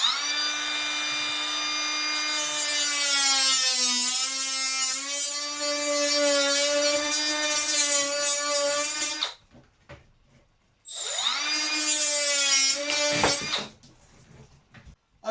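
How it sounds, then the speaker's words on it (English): A small cut-off saw cuts through vivarium tracks with a loud, steady high-pitched whine lasting about nine seconds, then, after a short pause, spins up again for a briefer second cut before winding down. "Now I'm using a little cut-off saw that I've got."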